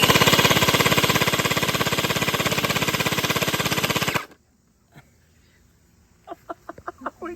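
An X-Shot HPG-700 hyper gel blaster fires in a rapid, continuous buzzing burst for about four seconds, loud and close, then stops abruptly, followed by quiet and a few sharp clicks or knocks.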